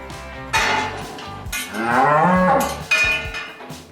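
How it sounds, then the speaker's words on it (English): Pregnant dairy cows in a barn pen mooing, with a long, loud low moo in the middle, shorter calls around it and clanking metallic knocks nearby. "Here's an example of 2 cows that they have in early that are expecting right now."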